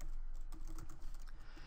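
Code is typed on a computer keyboard during a Unity physics scripting session, a close, quiet run of rapid irregular key clicks continuing throughout with no talking.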